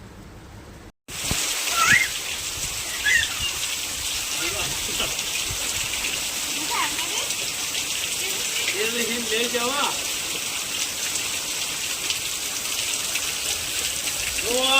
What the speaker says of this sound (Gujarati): આ વર્ષમાં પહેલી વખત અમારે એટલો વરસાદ આજ ભર્યો